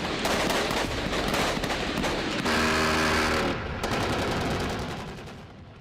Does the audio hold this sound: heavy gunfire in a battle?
yes